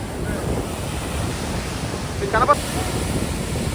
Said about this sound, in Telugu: మామూలుగా లేవు అలలు.